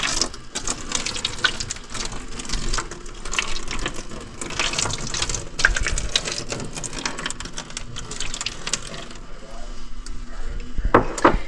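Water running from a tap into the cavities of a chicken egg incubator tray, a steady splashing trickle with small clinks of the tray, close by, ending in a brief louder splash.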